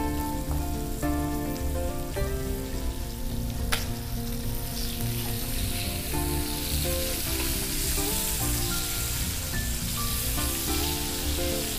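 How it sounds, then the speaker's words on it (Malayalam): Chicken pieces for chicken kondattam fry in hot oil in a pan, a loud, steady, crackling sizzle that continues unbroken with occasional stirring clinks and no talk. "നമ്മൾ നേരത്തെ ഫ്രൈ ചെയ്യാൻ വെച്ച ചിക്കൻ ഏകദേശം ആയിട്ടുണ്ട്."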